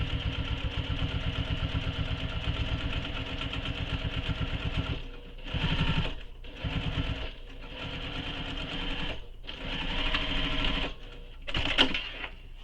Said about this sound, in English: I'm just going to stitch over that seam just a 1/16 of an inch away from that seam that I just sewn